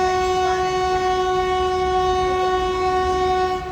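The Tirunelveli–Purulia express train sounds a long, steady horn blast close by, held at full strength for several seconds over a rumbling rail backdrop before it cuts off.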